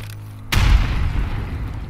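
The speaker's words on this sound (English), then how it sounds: "Somebody just threw a grenade in." A grenade detonates in Escape From Tarkov, a sudden heavy boom with deep low rumble that hits hard and then rolls into a long, loud reverberant tail.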